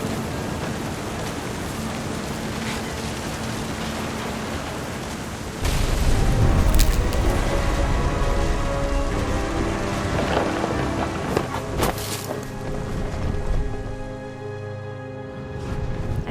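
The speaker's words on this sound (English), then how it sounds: "The thunder sounded much too close and full of angry power" Steady rain falls in the game What Remains of Edith Finch, then thunder crashes in loudly around the midpoint and rumbles on beneath the continuing downpour.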